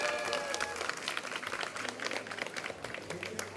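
Sustained applause and clapping from a crowd at an FTC Benelux robotics championship as alliance teams are introduced, dense and steady throughout.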